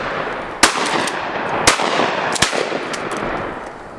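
Shotgun blasts ring out at a duck in a swamp, three sharp shots spaced about a second apart, loud and close over a steady outdoor background.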